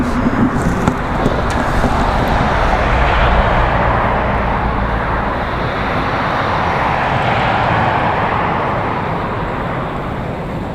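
A jet airliner takes off from a runway at Raleigh Durham International Airport, its loud, steady engine roar filling the air from a distance and holding broad and constant throughout with no voices.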